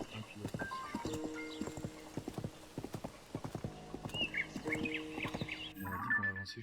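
Horse hooves clip-clop in a steady rhythm during riding in the video game Zelda: Tears of the Kingdom, with a brief whinny; people talk over the hoofbeats throughout.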